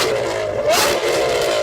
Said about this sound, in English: I could actually see the blast from your exhaust blowing the little blooming mic, Fluffy.